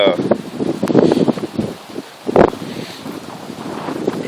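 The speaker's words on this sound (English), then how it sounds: "I'm going to get out this wind because I don't know how the audio's going to be" Gusty outdoor wind buffets the microphone in rough bursts with a brief lull, while someone talks over it throughout.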